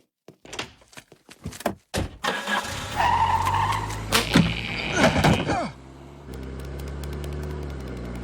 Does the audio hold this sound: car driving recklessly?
yes